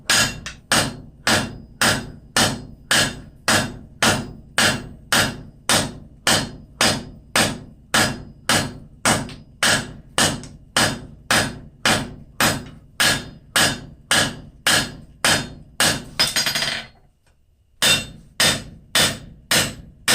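Hammer forging hot steel pickup tongs on an anvil, drawing out the reins: a steady run of about thirty evenly spaced, ringing blows, a short pause near the end, then the strikes resume.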